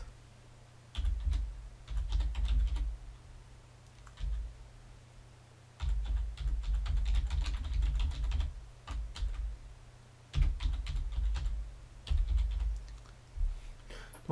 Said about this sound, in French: je vais saisir mon adresse internet